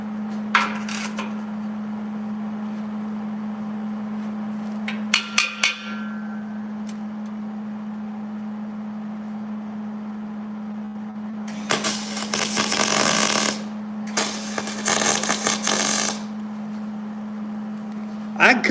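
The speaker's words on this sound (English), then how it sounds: "We'll take the cut-off wheel. We'll just cut it." An angle grinder's cut-off wheel slicing through steel while building a sheet metal cart, two harsh bursts of bright, hissing cutting late in the clip over a steady electrical hum, after brief clanks.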